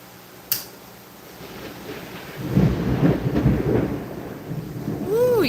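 A sharp crack is followed by a long, deep rumble of thunder rolling in, over a constant hiss of steady rain.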